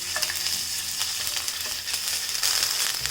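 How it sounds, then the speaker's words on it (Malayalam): Half a teaspoon of ginger garlic paste sautés in two tablespoons of hot oil in a pan, giving a steady, close sizzle with frying crackle and occasional stirring scrapes, no voices. "ഇതിലേക്ക് ഞാൻ 1/2 ടീസ്പൂൺ ജിഞ്ചർ ഗാർലിക് പേസ്റ്റ് ഇട്ടിട്ട് വഴറ്റി കൊടുക്കാം."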